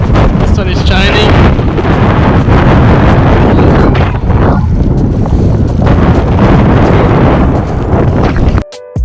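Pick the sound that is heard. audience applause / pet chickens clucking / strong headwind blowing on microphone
strong headwind blowing on microphone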